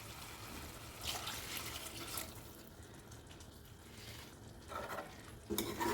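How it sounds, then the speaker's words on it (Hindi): Water poured into a cooking pot of chicken, potatoes and green chickpeas, a soft wet splashing and trickling that swells in short bursts, fairly quiet, with no talk. "फिर हम इसमें पानी ऐड करेंगे ताकि आलू और चिकन और छोलिया जो है वो पूरा डन हो जाए।"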